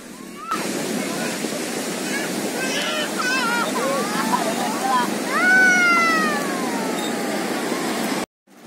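Waves wash steadily on Citepus beach at Pelabuhan Ratu, a broad continuous surf rush, with high squealing animal-like cries and voices drifting over it before the sound cuts off abruptly.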